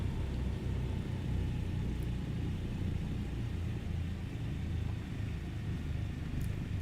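A Douglas DC-3's piston engines throttled back to near idle in Microsoft Flight Simulator 2020, giving a steady, low, droning rumble that holds evenly throughout with no voices.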